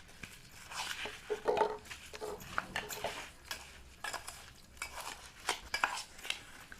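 A spoon stirs lemon pickle mixture with sugar in a pot, giving soft repeated scraping and clinking against the metal, moderately close, with no voices.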